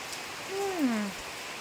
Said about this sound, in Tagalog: Ulan na naman ngayon kasi nga meron atang bagyong paparating